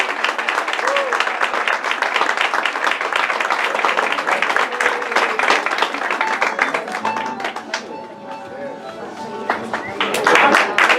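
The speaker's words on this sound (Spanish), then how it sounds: "muchas gracias por los aplausos" An audience applauds after a Paraguayan folk performance at a Paraguayan cultural evening, steady dense clapping from a crowd that thins briefly and then swells again, with people talking over it.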